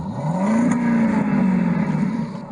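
A car engine revving in a video game, a buzzy engine note that rises briefly then holds steady and fades slightly, moderately loud and alone.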